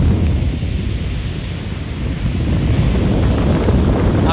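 Monsoon sea surf on a Konkan beach roars in a loud, continuous wash, heavy with wind buffeting the microphone and no voices.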